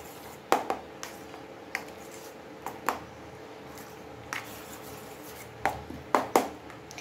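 A spoon works through a thick, stiffening dough of semolina and flour in a pot, giving soft squelches with scattered sharp knocks and scrapes at an uneven pace against a quiet background.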